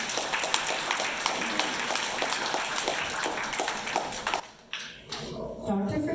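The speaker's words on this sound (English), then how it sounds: "Let's quickly give them a round of applause" Applause from an event audience honoring sponsors at a dentistry gathering, a steady wash of many hands clapping for about four seconds before thinning out, with faint talk near the end.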